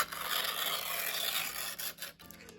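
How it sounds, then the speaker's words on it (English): A Tyco Mantua Mikado model locomotive motor whirs with spinning wheels, a thin, hissy, scraping buzz close by that runs steadily before stopping in a couple of clicks near the end. "we can tell that the motor is running and that the wheels spin along with it"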